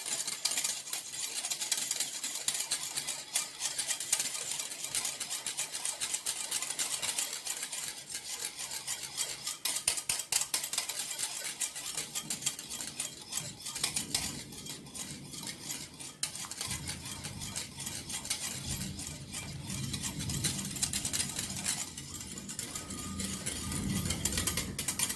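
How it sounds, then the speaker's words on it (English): A whisk beats a coffee mixture in a bowl for homemade cappuccino made without a machine: continuous rapid metallic clinking and scraping, fairly close and steady throughout, with no voices. "Whisk the mixture until you get into a very pale, brown in color, something like a caramel."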